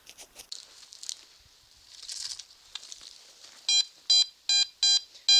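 After some scraping and rustling at a house site, a metal detector gives five loud, evenly spaced electronic beeps in a regular rhythm, reading 86 to 87.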